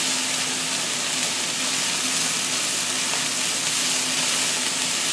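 Diced yellow onion and ground beef frying in a pan, a loud, dense, steady sizzle that holds unchanged throughout, close by and with no voices.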